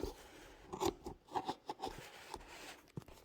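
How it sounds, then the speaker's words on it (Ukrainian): Several quick snipping and crinkling sounds, close by, like scissors cutting into packaging, with short pauses between cuts. "я візьму інші ножиці бо тими маленькими мені невдобно відкривати."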